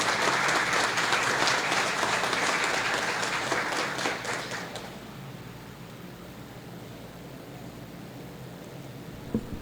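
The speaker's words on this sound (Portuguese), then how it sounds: "Uma salva de palmas," A crowd at a book launch applauds loudly and steadily for several seconds, then the clapping fades out, leaving quiet room noise.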